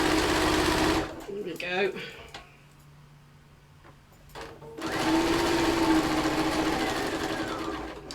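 A domestic sewing machine runs in close, steady bursts, stopping briefly for a backstitch before starting again, with someone speaking quietly during the pause.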